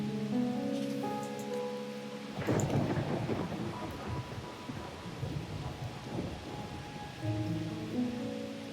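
Video game thunderstorm in Wuthering Waves: a loud thunder crack breaks in over musical tones, then rolls into steady heavy rain and rumbling that continue while the music returns.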